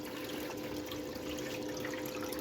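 Steady rush of water running through a highbanker at a camping site, a continuous even wash with no pauses or voices.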